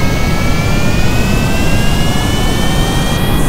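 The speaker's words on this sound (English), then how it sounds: "Without any mods, two planes are flying together." Two planes flying together in Kerbal Space Program, a steady loud engine roar with a high whine running continuously and alone throughout.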